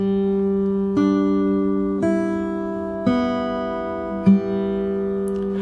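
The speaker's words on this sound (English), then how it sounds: "And then the melody underneath is like this." Slow single guitar notes of a melody plucked roughly once a second, each ringing out clearly over a sustained open-string drone, no voices.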